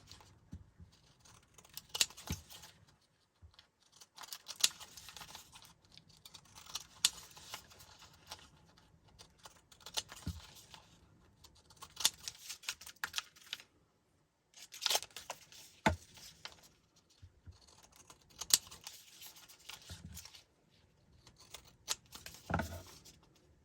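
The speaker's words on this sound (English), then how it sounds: "we can turn this over and trim off the excess here" Scissors trimming excess quilt fabric, quiet repeated snipping cuts in short clusters separated by pauses, close and faint.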